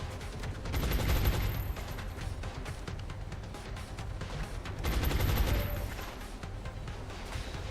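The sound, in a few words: gunfire in video game XCOM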